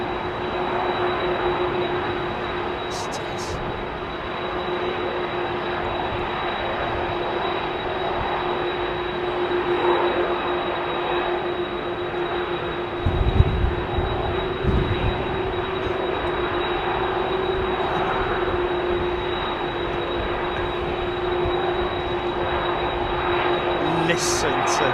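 A jet airliner accelerates down the runway on its takeoff roll at London Heathrow Airport, a steady, loud engine roar holding throughout with a brief low rumble midway and people talking faintly in the background.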